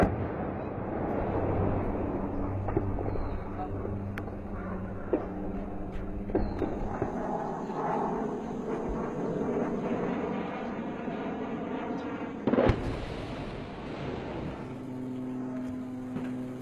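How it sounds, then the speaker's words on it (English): Bombers over Marawi during an airstrike drone overhead, with low engine rumble, scattered thumps and one sharp, loud blast near the end, distant and rolling. "we watched airstrike after airstrike."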